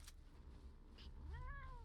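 A single cat meow from the video game Drakensang: The Dark Eye, a clear rising-then-falling cry near the end of the clip over a low, steady game ambience.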